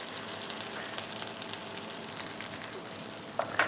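Peppers for peperonata crisping in a hot pan give a steady, soft sizzle throughout, with a couple of brief louder spits of fat near the end.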